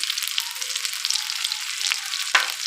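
Chicken seekh kebabs fry in a pan, browning on every side, giving a steady close sizzle with fine crackling throughout and one brief sharper spatter near the end, with no talking.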